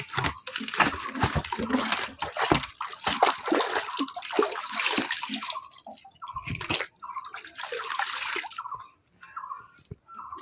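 Water runs from a tap into a container, a splashing, gurgling stream that changes pitch as the vessel fills, fairly close and loud, briefly pausing near the end.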